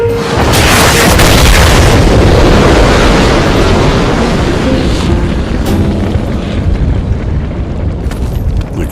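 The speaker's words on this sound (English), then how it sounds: "You just run and wait for the boom." A huge explosion in Enslaved: Odyssey to the West hits with a loud, deep boom that rumbles and rolls on, then slowly fades with scattered crackles and debris, and no voices.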